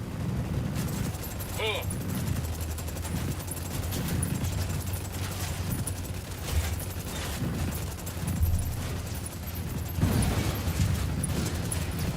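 Gunfire in the shooter Ghost Recon Wildlands, a steady, dense rattle of shots and blasts lasting the whole stretch, loud and close, with rumbling low noise underneath.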